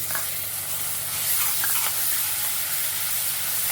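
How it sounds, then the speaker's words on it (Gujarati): Ginger-garlic paste hitting hot oil over roasted sesame seeds for a Kathiawadi whole-onion curry, making a loud, steady close sizzle that hisses on without a break, with faint stirring under it. "હવે એમાં આદુ લસણની પેસ્ટ નાખીશું"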